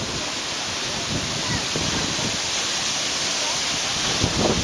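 A dense, constant roar of rushing, crashing water from a Milford Sound waterfall fills the scene from very close, steady and loud with wind buffeting the microphone.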